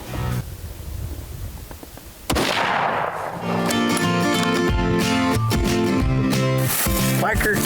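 A single loud, sharp rifle shot fired at a kudu during an African plains game hunt, booming suddenly out of quiet outdoor ambience, followed by background music.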